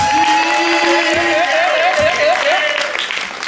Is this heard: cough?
no